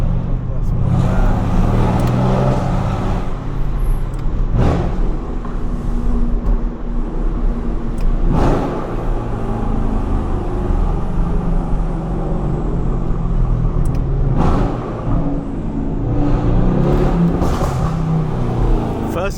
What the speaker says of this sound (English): First gear pops are crazy, what the hell?